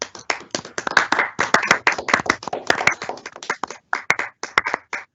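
A small group claps at a college's 2021 teaching awards ceremony, with sharp, separate hand claps in an uneven rhythm that thin out briefly near the end. The clapping is close and clear, with no talking.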